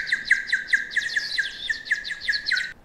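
Rapid, high-pitched chirping trills repeat in quick bursts, a whistle imitating bird calls, fairly close and steady, then stopping abruptly.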